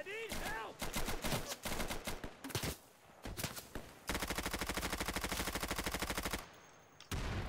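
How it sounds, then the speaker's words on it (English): Rapid automatic gunfire in the tactical shooter Insurgency, with long sustained bursts and shorter volleys of loud, sharp shots, fired as suppressing fire. "I love that suppressing fire is actually a plausible thing to do in this game."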